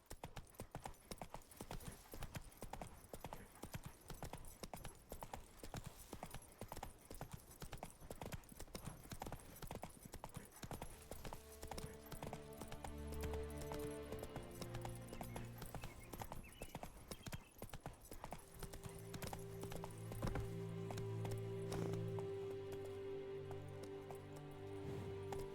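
Horse hooves clip-clop steadily on the ground in The Witcher 3 video game, a continuous rhythmic trot under music that swells later, with an occasional faint whinny.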